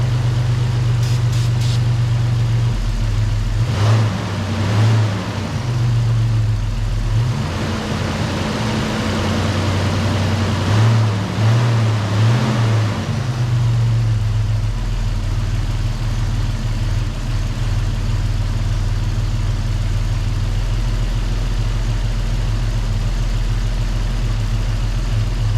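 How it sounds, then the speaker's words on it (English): A Toyota 4Runner engine idles after major engine repair, a steady low rumble with a smooth continuous drone and faint ticking on top, close and unbroken for the whole stretch. "it's idling pretty good, and the engine's quiet enough I can actually hear the injectors themselves"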